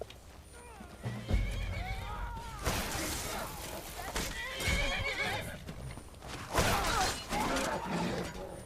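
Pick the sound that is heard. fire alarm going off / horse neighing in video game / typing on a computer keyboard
horse neighing in video game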